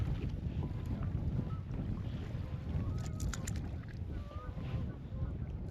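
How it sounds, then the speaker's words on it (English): Strong wind buffets a bass fishing boat on open water in early spring, a steady rushing roar across the microphone with gusty swells, and no one speaking. "This wind has really made things tough."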